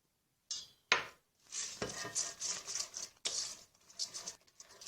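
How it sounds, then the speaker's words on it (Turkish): A whisk stirs thick cherry brownie batter with walnuts in a bowl, making a series of short scraping, clinking strokes in an uneven rhythm, close and fairly quiet. "Şimdi de çırpıcıyla karıştırmaya devam edeceğiz."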